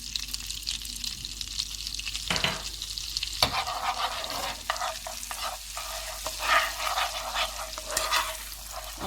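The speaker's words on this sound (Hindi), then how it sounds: "जब बटर इस तरह से गर्म हो जाएगा तो चूल्हा बंद कर देंगे और इसमें हम मिर्च डाल देंगे।" Green chillies sizzle in hot butter off the heat for a dhaba-style egg curry, a soft continuous frying hiss with crackling pops and a couple of sharper scrapes, fairly quiet and close.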